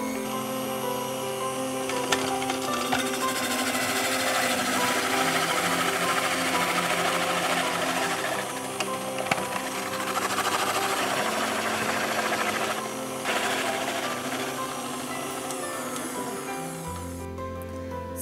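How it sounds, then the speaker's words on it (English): A KitchenAid stand mixer running its rotor slicer/shredder attachment to shred potatoes, a steady loud motor whir with rattling vibration that holds for most of the stretch and shifts pitch toward the end. "I'm going to shred some potatoes."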